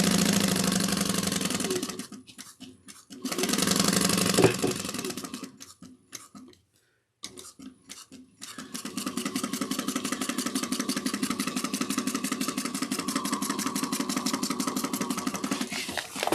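Sewing machine top stitching a fabric trick-or-treat bag, rapid rhythmic mechanical clatter in short bursts with brief pauses, then a long steady run of stitching.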